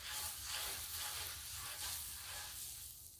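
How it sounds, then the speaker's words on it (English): Butter sizzles on a hot griddle, a steady close frying hiss with crackly texture that eases slightly toward the end, heard alone. "let's throw some butter on the griddle"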